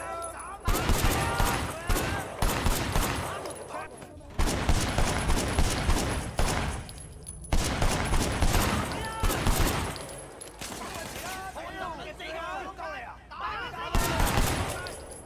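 Dense bursts of automatic gunfire and explosive shots from the action game Sleeping Dogs rattle almost continuously during a wedding shootout, loud and close, with voices mixed in.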